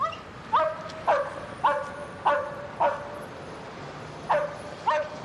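A police dog working a scent trail barks seven times, sharp and fairly close, in an even rhythm with one longer pause before the last two; no talking.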